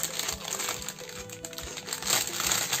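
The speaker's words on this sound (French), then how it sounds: "Vous n'aimez pas les bruits de papier?" Paper and packaging crinkle and rustle in short, close bursts while a diamond painting kit is unboxed, with small clicks and crackles scattered through the handling.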